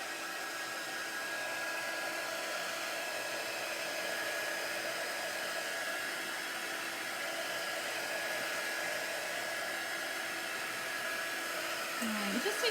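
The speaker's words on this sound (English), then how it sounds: "I'm going to hit this with my heat tool for just a second to get it dried up a little bit" A heat tool drying a freshly applied chalk transfer on a wreath craft project blows with a steady, close airy roar that holds unchanged for the whole stretch, with a faint shift near the end.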